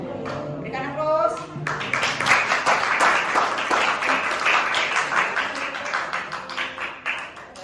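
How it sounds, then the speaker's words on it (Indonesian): An audience at a school entrepreneurship project assessment in Bekasi breaks into sustained, dense clapping for a crafts group presentation, following a brief voice at the start and holding for several seconds. "Berikan aplaus."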